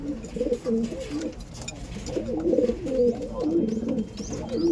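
Several Andhra pigeons coo in overlapping, throaty rolling calls at a loft, close by and continuous, with faint ambient noise.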